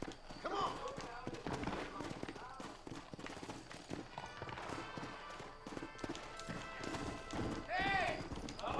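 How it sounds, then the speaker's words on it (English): A horse gallops at night in the Xbox One game Red Dead Redemption, with a steady rhythm of clip-clopping hooves and occasional voices and game sounds over it. "hop on my horse and get to riding"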